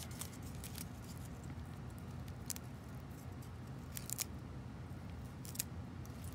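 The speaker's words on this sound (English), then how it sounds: "we're going to trim this off" Scissors trimming a paper craft box, a few faint sharp snips scattered over a quiet, steady room hiss.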